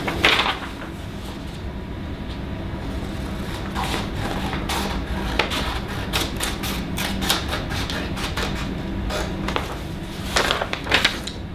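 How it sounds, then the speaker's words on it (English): Scissors cut paper tabs in a series of crisp, irregular snips close by, over a steady background hum. "You're going to need to take some scissors and cut"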